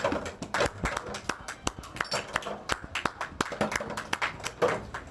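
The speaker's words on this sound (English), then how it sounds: "Clapping for Usman" A small family claps along during a home game challenge, sharp close hand claps in a quick, slightly uneven rhythm with occasional voices underneath.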